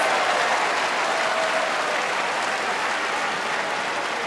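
Sumo arena crowd roaring and cheering after Tamawashi wins a bout at a grand tournament, a dense, sustained wall of noise that stays loud and even throughout.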